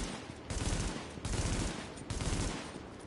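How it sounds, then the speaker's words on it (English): Short bursts of machine gun fire in the shooter game The Division, three quick rattling volleys with brief gaps between them, loud and up close. "if I just kind of pulse out, like, three or four shots with a machine gun"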